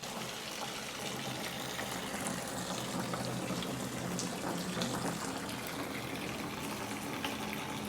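Coolant gushes out of the cooling system of a Land Rover Discovery 2, a steady, close, broadband pouring rush of liquid that keeps a constant level for the whole clip, with no talking.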